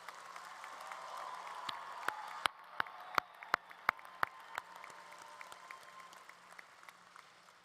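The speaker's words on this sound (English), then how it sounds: "let's give a big round of applause to our band, orchestra, their directors Matt Chandler and Steve Waddell" Applause from a high school graduation crowd for the band and orchestra, a soft continuous patter with a few sharper individual claps standing out near the middle, heard from a distance.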